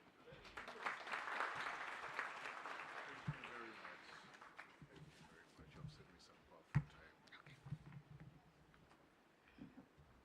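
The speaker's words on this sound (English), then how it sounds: "A second round of applause to Agnes." A conference audience claps, a dense burst of applause that swells early and thins into scattered claps and room noise, with voices heard faintly underneath.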